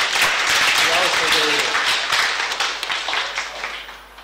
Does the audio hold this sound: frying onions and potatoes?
no